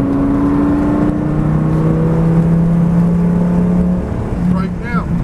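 A Lamborghini Gallardo engine on the Donington race track holds a steady droning pitch that climbs and then dips, heard from inside the car under an instructor's continuous coaching voice.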